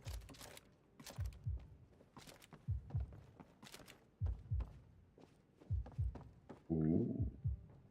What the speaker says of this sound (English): The heartbeat. It's coming from a Daedra heart.